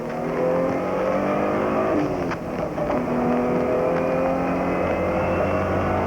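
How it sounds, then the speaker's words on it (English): GT race car engine idling and running steadily at Sebring International Speedway, a continuous rough rumble with slight rises in revs, close and fairly loud throughout. "It's running now, but I got no power steering at the moment."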